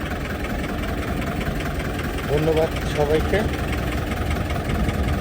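A car engine idles smoothly and steadily throughout, holding a low even rumble while someone speaks over it.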